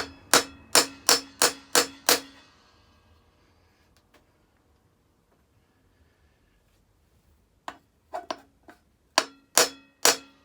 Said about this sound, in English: I can then use my tool again on that bearing to drive it all the way in.